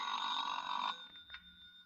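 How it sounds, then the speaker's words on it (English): An old-fashioned telephone bell rings once in a radio drama, a bright ring lasting under a second that then trails off into a short quiet pause. "That's the phone."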